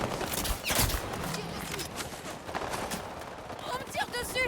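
Gunfire and reloading in the video game Highguard, a 5v5 match, with rapid shots and mechanical clatter under a speaking voice.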